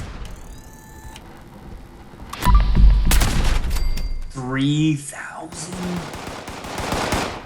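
Gauss Pistol shots in Fallout 76, with a few loud, sharp discharges and electronic whines and mechanical clicks between them, and someone speaking briefly in the middle.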